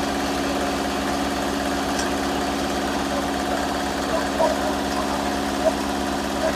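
A small engine motor idles steadily while firewood is cut near a home, a low continuous hum with faint vibration and a few brief clicks, close and unbroken throughout.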